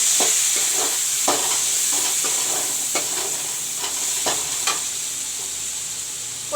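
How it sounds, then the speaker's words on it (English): Chopped tomatoes fry with golden brown onions in a pan, a continuous sizzle broken by repeated scraping stirs, close and alone without talk. "I will let the tomatoes fry a bit"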